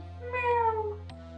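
A calico cat in the cat dating game Purrfect Date gives a single clear, drawn-out meow that falls in pitch, heard close over a steady low background hum with no voices.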